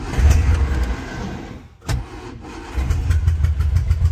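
An old barn-find Austin-Healey Sprite car engine is started with an ignition switch, giving a rough cranking noise, a short pause and then the engine catching into a loud, uneven idle close by.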